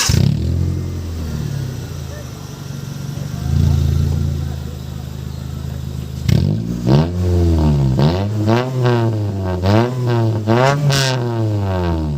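A 2002 Honda Civic Dimension fitted with an HKS exhaust idles steadily, then has its engine blipped through a run of sharp, close revs that rise and fall in quick repeated bursts.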